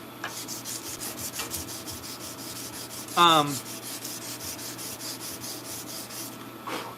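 A sword blade is sanded by hand in quick, regular back-and-forth strokes, close and steady, with a brief bright scrape or squeak partway through.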